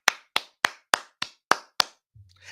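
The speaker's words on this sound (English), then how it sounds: "Make them clap for themselves." Seven sharp hand claps ring out alone at an even, unhurried pace, close and crisp, followed by a brief low hum.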